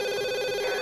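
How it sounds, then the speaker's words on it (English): A telephone rings with a brief steady electronic trill that holds at an even level, fairly clear and heard alone without any voices. "when the phone rang"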